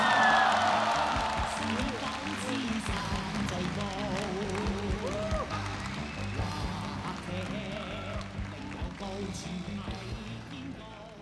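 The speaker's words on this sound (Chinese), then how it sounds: "掌声有请冯小刚导演" A theater audience at a Deyun Society 20th anniversary crosstalk celebration breaks into sustained applause and cheers as director Feng Xiaogang comes on stage, loudest at first and then easing under voices and chatter.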